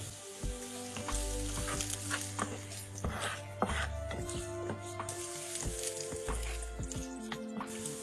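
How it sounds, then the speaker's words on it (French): Garlic and onion fry in a hot pan with a loud, steady crackling sizzle, broken by occasional utensil scrapes and taps, close and without talk. "Je vais laisser frire l'ail et l'oignon juste quelques minutes."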